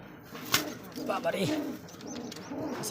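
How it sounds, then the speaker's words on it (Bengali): Pigeons coo in a loft of high-flyer pigeons kept alongside egg-laying pairs, soft throaty calls repeating near and moderately loud amid rustling, with voices talking over them. "একেবারে একটা অস্থির হাই ফ্লার একটা কবুতর"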